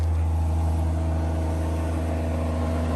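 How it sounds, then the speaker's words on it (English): A Land Rover Defender 110 P400 engine idles after a cold start at around 10 degrees Fahrenheit. It holds a loud, close, steady low drone with an even mechanical whir, and no talking is heard. "Let's do a cold start."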